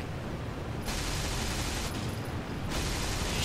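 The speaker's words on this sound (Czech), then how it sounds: "A můžeš střílet kulometr? Jo? Tak pojď, střílej." Machine gun fire from a Heinkel bomber in a flight game comes in two long, loud, dense bursts over a steady roar of engine noise.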